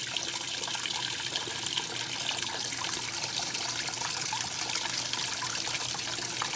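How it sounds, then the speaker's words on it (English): A washing machine on its rinse cycle flushes water through the fabric softener dispenser, giving a steady, fairly loud rush and trickle of running water that carries on without a break. "for the second time it flushes out the fabric softener dispenser"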